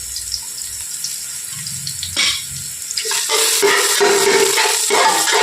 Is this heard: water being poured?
yes